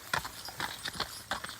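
Hooves of four male horses clip-clop on the ground at a farm gate, several uneven steps in a loose walking rhythm, close and fairly clear with no speech.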